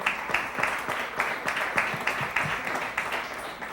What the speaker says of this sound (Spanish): Un aplauso para Diego